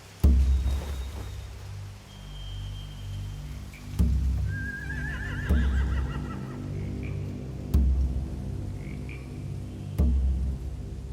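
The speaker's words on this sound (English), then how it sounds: "They have horses." Horses whinny in The Walking Dead: The Final Season video game, a single wavering neigh rising out of a low droning ambience punctuated by periodic heavy thuds.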